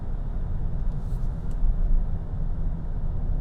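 A 2021 Mercedes-Benz GLA 250 driving at night in sport mode, its engine dropping two gears around 2200 RPM at about 50 km/h; a steady low cabin rumble with a slight swell midway, no talking.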